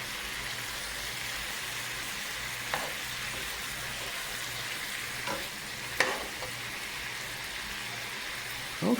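Thai-style sweet and spicy pork stir-frying in a hot pan, a steady loud sizzle with occasional sharp pops and utensil scrapes, close and uninterrupted by talk.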